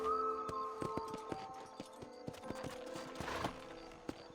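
Horse hooves clip-clop in a steady rhythm in Red Dead Redemption on a remastered Wild West game, the beats even and fairly close, with music tones and quiet game sounds behind.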